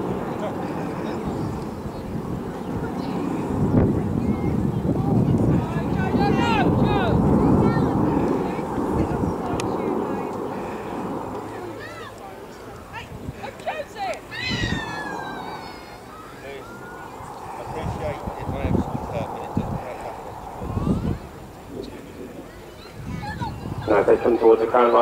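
A Spitfire and a Eurofighter Typhoon fly slowly in formation at the RAF Cosford Airshow, their engine roar swelling and fading at a distance through wind buffeting on the microphone.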